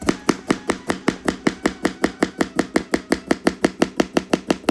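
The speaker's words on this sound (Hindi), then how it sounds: "तो फटाफट इनकी कटिंग कर लेते हैं और इसमें डाल देते हैं।" Rapid, evenly spaced knife strokes chop produce on a board in a Uttarakhand village home, about four crisp cuts per second, close and loud with no talking.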